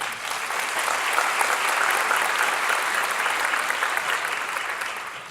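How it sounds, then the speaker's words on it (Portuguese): An audience claps in sustained, even applause at a talk on mental health, a dense patter of many hands holding steady before tapering slightly at the end. "Mais uma salva de palmas."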